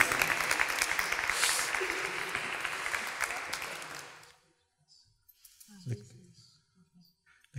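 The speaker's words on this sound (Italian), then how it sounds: "Io farei allora un applauso a Luc Modano." Audience applause at the Lucca Comics & Games 2014 showcase, a dense steady round of clapping for about four seconds that ends abruptly, followed by near silence with a few faint scattered sounds.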